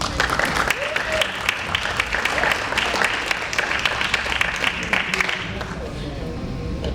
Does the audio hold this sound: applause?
yes